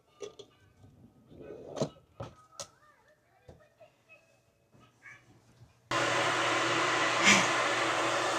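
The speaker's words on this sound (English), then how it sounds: "Hair dryer." A hair dryer in a Disney cruise ship cabin switches on partway through, a steady loud blowing roar that follows scattered knocks and cabinet handling.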